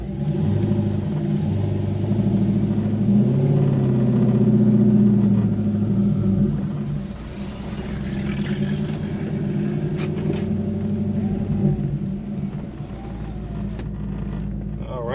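A C5 Corvette pulls away with a deep, steady engine rumble close to the car, under someone talking as it gets moving.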